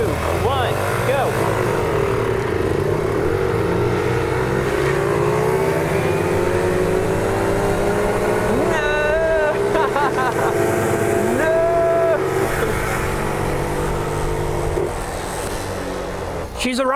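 Motorbikes imported from Japan race off the line, engines revving and accelerating loudly with rising whines, under people shouting and talking.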